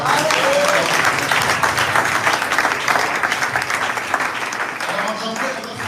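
A church congregation in Kinshasa breaks into sustained, loud applause with dense clapping and cheering voices, steady throughout and fading slightly toward the end.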